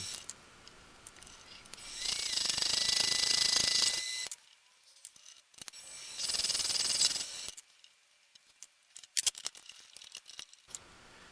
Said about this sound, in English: Then I can part off the second ring, same as the first.